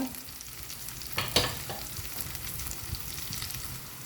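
Okra (lady's finger) frying in oil on a high flame, giving a steady, close crackling sizzle with a few sharper bursts and a stirring clatter partway through.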